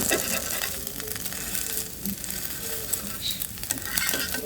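Eggs frying in a pan sizzle with a steady, hissing crackle and occasional stirring scrapes and pops, close and continuous, with no voices over it.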